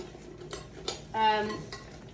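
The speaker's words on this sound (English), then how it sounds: "we mix them together as thoroughly as you can" Chocolate pie ingredients being mixed together in a bowl give off light clinks and scrapes of a utensil against the dish. A brief squeaky, ringing scrape follows midway, all close and fairly quiet.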